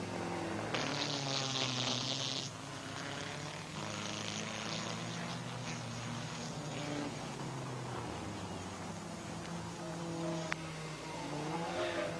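Elva Courier sports cars racing on a track: engines whine and buzz as they rise and fall, passing at a moderate distance with shifting pitch and no talk heard.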